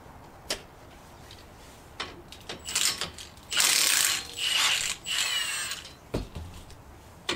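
A ratchet with a 19 mm socket turns to remove a 1.5 inch wheel spacer on a Nissan Xterra or Frontier, heard as close, fairly quiet clicking bursts of varying length with short pauses between.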